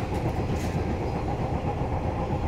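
A Northern class 142 diesel train is running as it arrives at Scunthorpe station, heard from on board. It gives a steady, close rumble of engine and rolling wheels, with no talk.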